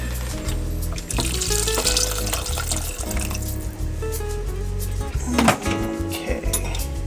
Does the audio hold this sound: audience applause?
no